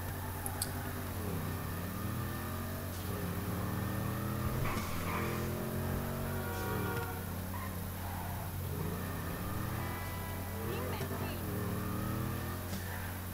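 A muscle car in GTA 5 drives with a steady droning engine and shifting revs that rise and fall throughout, close and continuous, with someone talking over it.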